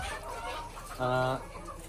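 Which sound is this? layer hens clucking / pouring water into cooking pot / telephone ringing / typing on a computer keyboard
layer hens clucking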